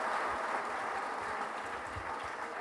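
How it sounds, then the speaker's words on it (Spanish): Audience at a university lecture event applauds to send off a guest speaker, a steady dense wash of clapping from many hands at moderate distance, without speech. "Fuerte los aplausos, los despedimos, por favor."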